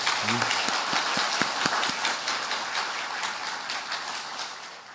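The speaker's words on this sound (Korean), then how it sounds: "우리 다시 한번 수고한 남성교회를 위해서 큰 박수로 축복하겠습니다" A church congregation applauds the men's fellowship during a dedication service, a broad wash of clapping that slowly fades, with a brief voice at the start and a few distinct claps standing out early.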